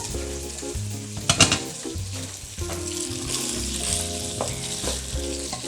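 Chicken frying in coconut oil in a cooking pot gives a steady sizzle that runs the whole time beneath loud background music, with a brief sharper burst of crackling early on.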